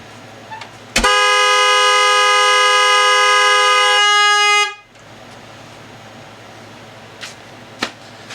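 A Fox-body Mustang with an LS swap blares its car horn, stuck on by a relay during cranking: one loud, steady, unbroken blast of about four seconds that cuts off abruptly, followed by quiet shop ambience with a couple of faint clicks.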